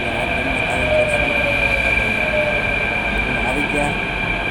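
A passenger train rolls into a station platform with a loud, steady rumble and a sustained high metallic wheel squeal, continuous throughout with no clear talk.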